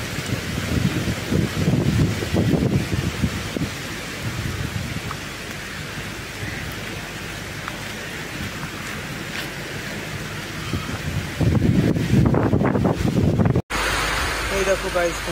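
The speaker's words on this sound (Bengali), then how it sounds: "ফুল বৃষ্টি।" Heavy rain pours outdoors during a thunderstorm, a steady close downpour that swells in louder bursts, with people talking over it and an abrupt cut near the end.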